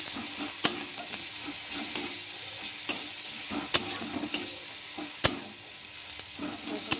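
Spice paste with turmeric fries in oil in a pan and is stirred steadily, giving a soft continuous sizzle. Sharp clicks from the spoon scraping the pan sound at irregular moments.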